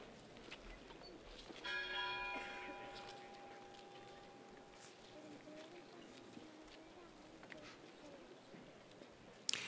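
A church bell of the temple strikes once during a Holy Week procession in Zamora, its tone ringing out and slowly decaying over crowd murmur and a commentator's voice.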